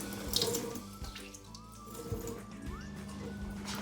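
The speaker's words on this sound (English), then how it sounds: "Just going to rinse off my teaspoon to measure the extract of vanilla." Kitchen tap water runs steadily into a sink while a teaspoon is rinsed, a close, continuous splashing with faint clinks and no talking.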